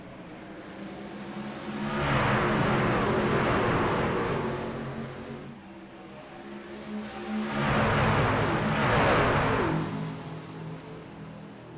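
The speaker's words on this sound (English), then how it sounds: "Just the sound of the cars as they come past the cameras is awesome." Two waves of engine roar swell and fade as race cars sweep past static cameras one after another in a sim racing game race at Daytona, with a lull between the passes.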